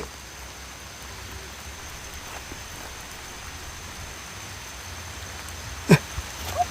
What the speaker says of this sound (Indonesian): datangnya hujan